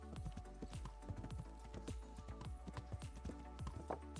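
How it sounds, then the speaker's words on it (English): Hooves of a ridden horse clip-clop steadily on the ground, loud and close, in a quick rhythmic stream of sharp knocks that carries on for the whole stretch. "I'm riding a horse."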